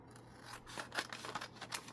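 Scissors snipping paper while making a rustic food farm junk journal: several quick, quiet crisp cuts in close succession, faint and near, with no talking.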